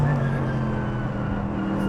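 Mercedes-AMG GT3 race car at full power on the Nordschleife, a steady loud in-car engine drone with a sustained tonal hum and no break.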